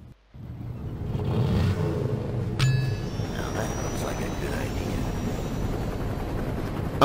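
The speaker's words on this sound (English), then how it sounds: "There's a bunch of helicopters dropping cargo over Samdi territory." Helicopters flying in the video game Saints Row 2, dropping cargo, give a steady low rotor drone with engine noise running throughout, under mixed game effects and a brief chime.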